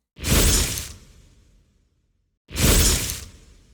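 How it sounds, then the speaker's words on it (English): Two sharp, wet splattering blood-spill bursts from a Diablo 3 Demon Hunter sound effect, each a quick gush that tails off, separated by a couple of seconds of silence. "This is what the blood spills sound like"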